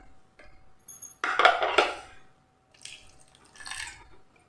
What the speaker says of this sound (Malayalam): ഇനി ഇതിലേക്ക് നമ്മൾ ചെറിയ ചൂടുവെള്ളം, ഒരുപാട് ഒഴിക്കണ്ട